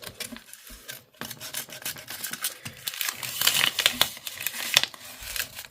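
Scissors snip and rasp through a paper junk mail envelope at close range, an irregular run of crisp cuts, crinkles and rubbing that grows denser and louder toward the end.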